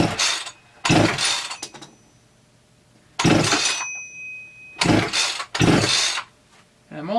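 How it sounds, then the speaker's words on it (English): Several sharp rasping pull-start bursts from a Husqvarna 350 chainsaw with the decompression valve off during a compression test, each pull cranking loudly and close, separated by quiet gaps, the engine never catching. "Put your foot on the saw and give it a pull, and don't forget to have the decomp off."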